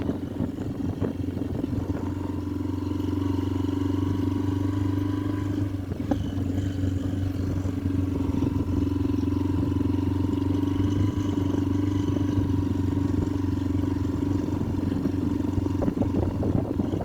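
Motorbike engine droning steadily and close at a near-constant pitch while riding through a residential area in Kozo, Zambia, with no talking.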